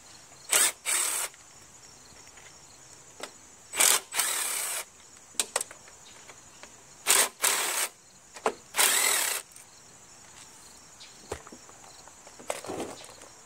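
Several short bursts of ratcheting clicks from a hand ratchet removing 5/16 engine bolts on a 190cc push lawn mower, separated by pauses, up close, with faint shuffling and handling noises between them.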